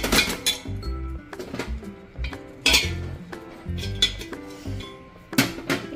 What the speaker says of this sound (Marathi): एक मिनिट मी एकत्र छान मिक्स करून घेते